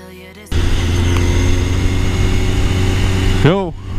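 A Suzuki GSX-R 1000 motorcycle on a test ride drones with a steady, close engine hum that starts abruptly and holds evenly, followed by a brief warbling tone near the end.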